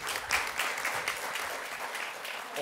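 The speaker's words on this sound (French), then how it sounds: "Je vous invite à les applaudir un à un, bien sûr." Audience applause at the opening of an event at the Cité de la Mer, quiet and fairly distant, with steady scattered clapping over a short stretch.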